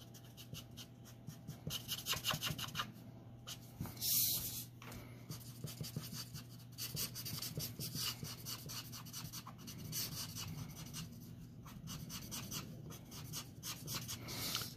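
A marker coloring a background on paper, soft continuous scratchy strokes close by that rise and fade over several seconds, quiet and with no talk.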